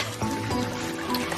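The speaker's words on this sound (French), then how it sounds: "Mais tu m'éclabousses là" Water in an outdoor swimming pool splashes and laps in a short burst of soft watery churning, fairly close, as children play and race.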